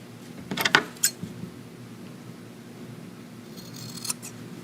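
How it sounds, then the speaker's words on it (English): Scissors snip through fabric while trimming seam allowance on a zipper bag, a quick cluster of sharp crisp cuts near the start and one more snip near the end, close and quiet between them. "I'm just trimming this. I trimmed it across and then at an angle."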